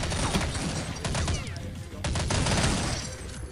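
MP5 gunfire in a multiplayer video game crackles in rapid bursts with sharp impacts, loud and dense, mixed with other game noise.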